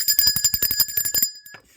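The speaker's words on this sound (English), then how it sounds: "Ring the bell for that." A small bell rings rapidly with a bright metallic tone, a quick run of repeated strikes followed by one last faint ding after a short pause.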